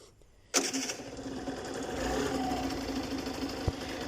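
A 50cc moped engine fires up abruptly and settles into a steady, buzzing two-stroke run close by, with a brief sharp knock partway through and no one speaking.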